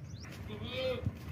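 A long-eared Makhi Cheena goat, castrated and with two teeth, lets out a short nasal bleat, close by and clear against light background noise.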